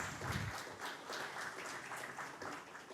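Polite applause from an audience at a company's bell-opening ceremony, steady soft clapping that carries on evenly, fairly faint and slightly distant.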